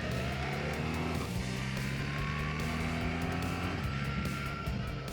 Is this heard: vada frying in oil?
no